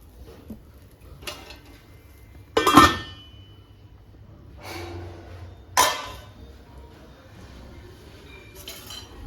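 A metal lid set over a pan of vellayappam, sharp clanks and clinks of lid against cookware at intervals, with softer handling rattles between and faint kitchen background.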